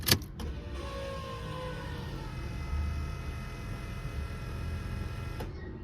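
A twin-turbo LS engine in a G-body Cutlass, freshly filled with 93 fuel, cranks over with a steady mechanical whir that starts with a sharp click and stops abruptly near the end, fairly quiet and close.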